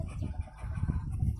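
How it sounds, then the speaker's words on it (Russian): Ducks and a drake in a cramped, mesh-enclosed coop give low, muffled quacks and rustling murmurs, close but faint, with no clear calls standing out. "Вот, уточки, это селезень,"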